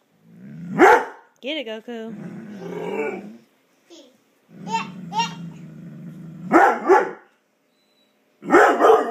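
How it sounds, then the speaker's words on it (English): Several sharp dog barks in bursts, near and loud, mixed with a child's and adults' voices talking, as a dog reacts to another dog outside. "There's another dog outside."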